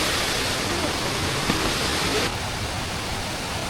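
A large waterfall in northern Laos roars as a steady, dense wash of falling water, loud and unbroken for the whole stretch, with any voices buried beneath it.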